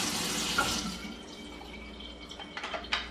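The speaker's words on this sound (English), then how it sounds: "Give it a good rinse." Tap water runs steadily over a Philips 3200 espresso machine's milk frother being rinsed in a sink, a soft hiss with a few small splashes and drips near the end.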